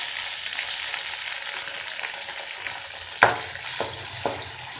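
Chopped tomatoes dropped into a hot pan for idli upma, a steady bright sizzle of frying with one sharp clatter as they land and a couple of softer stirring knocks after.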